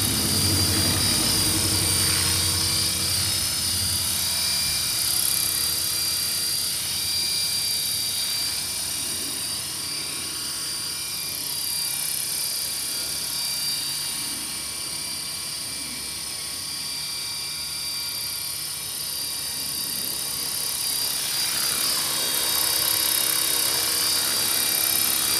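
Helicopter hovering close by and drifting forward and backward, a loud steady rotor and turbine roar with a high whine that swells and fades as it shifts position, no voices.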